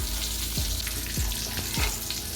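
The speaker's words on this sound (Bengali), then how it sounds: "চিকেন ফিঙ্গারটা ভাজা হয়ে গেছে" A constant bubbling hiss of chicken fingers frying in a small amount of oil, with small periodic pops and bursts and no voices.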